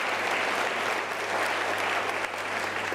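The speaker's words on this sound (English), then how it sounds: "can I please request you to give a round of applause to the video that you have just heard?" A large audience at a university autumn graduation ceremony applauding: a broad, continuous wash of clapping that holds at an even, loud level throughout without speech.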